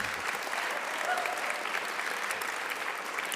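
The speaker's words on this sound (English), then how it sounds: "Please give a round of applause to Yasay Ali." An audience at a school Wall of Fame event applauds steadily, a sustained mid-distance patter of many hands clapping at an even level throughout.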